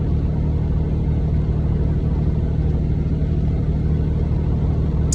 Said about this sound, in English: For a car with an engine that's making a knocking sound like that